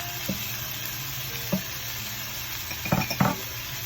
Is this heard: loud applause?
no